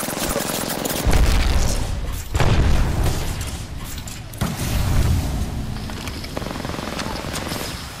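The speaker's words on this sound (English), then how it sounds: "I'm gonna just throw grenades over there" Grenades exploding in the video game Apex Legends: three heavy, booming blasts about a second apart, each with a deep rumbling tail over continuous battle noise.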